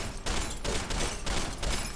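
A machine gun arm fires in Deus Ex: Human Revolution, rattling in rapid bursts with short gaps, dense and steady at moderate loudness.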